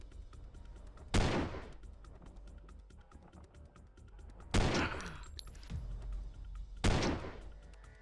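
Gunfire in the Stellar Tactics video game comes as three loud, sharp blasts spaced a few seconds apart, each with a short decaying tail over a low, steady background hum, with no talking.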